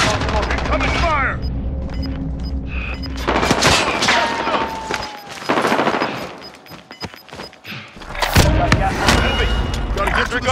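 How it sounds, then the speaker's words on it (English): Bursts of gunfire and booming shots in a Call of Duty mini royale match, loud and close with repeated volleys and sharp transients, broken by brief lulls, while players talk over the fighting. "Incoming fire."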